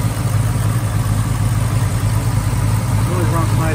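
A 1969 Pontiac Firebird convertible with a new dual-feed Holley carburetor and electric choke idles steadily, a close, loud low rumble that holds an even tone throughout.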